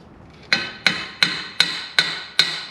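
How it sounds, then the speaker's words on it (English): Six sharp metallic hammer blows on a Jeep Willys engine at an even, steady pace, each ringing briefly, close and loud with no talking. "Got a hammer I'm gonna use"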